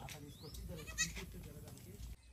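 Village goat bleating close by in a farmyard, one loud bleat near the middle over steady background noise, with people talking throughout.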